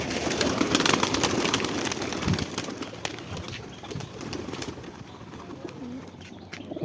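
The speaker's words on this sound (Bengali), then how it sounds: "আচ্ছা অনেক কবুতরই আছে নিচ খেলা কোনো ভাই লাগলে দেখতে পারো" Giribaz pigeons kept in cages coo in low, soft murmurs amid steady rustling and occasional wing flutters, close by with no talking.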